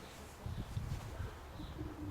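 A trained homing pigeon coos in low, soft, rolling notes, fairly faint against a quiet background, with a short repeated murmuring rhythm.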